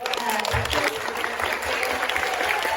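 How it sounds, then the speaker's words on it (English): Audience at a Comic Con panel for the Attack on Titan cast applauds, dense clapping and crowd noise filling the short stretch, with voices mixed in beneath. "Can we give a quick round of applause for this amazing"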